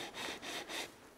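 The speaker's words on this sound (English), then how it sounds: "This is a fine sanding stick." A fine sanding stick rubbing over the airframe of a 1/100 scale Estes Saturn V model rocket: three short, soft, close strokes in quick succession, each a brief hiss, in otherwise quiet surroundings.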